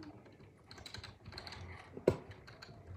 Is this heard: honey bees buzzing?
no